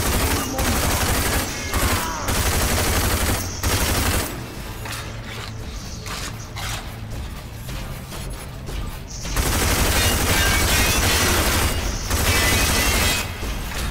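A nail gun in the video game Rage fires in loud, dense, rapid bursts, with a quieter gap in the middle before the firing comes back strongly. Game mechanical noise runs underneath and no voice stands out.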